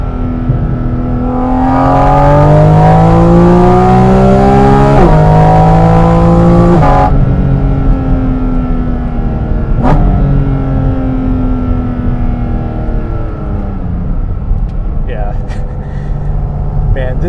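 A Porsche Cayman GT4 RS flat-six revs hard and loud from close by, its pitch climbing and then snapping down with each paddle-shifted gear change, settling into a steady drone afterward.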